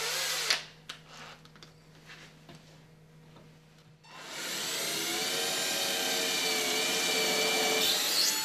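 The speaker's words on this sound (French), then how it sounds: "Sur cette ligne, vous préforez votre trou avec une fraise à chanfreiner." A power drill with a countersink bit pre-drills screw holes in the panels of a bathroom cabinet. After a few quiet seconds of light handling clicks, the drill starts close and loud, then whirs steadily without a break.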